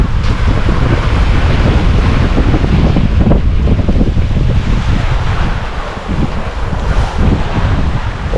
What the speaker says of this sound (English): We're getting up to 8 now with a pretty good stiff strong northerly.